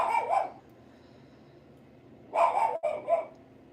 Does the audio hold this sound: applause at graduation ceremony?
no